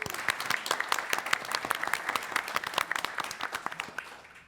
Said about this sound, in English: Give Jackie a round of applause.